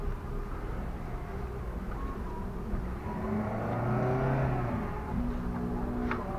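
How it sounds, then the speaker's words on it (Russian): A car passes nearby at a lakeside spot, engine rumble building and fading with rising and falling tones over steady background noise, no clear talking. "Машина, отойдите, пожалуйста."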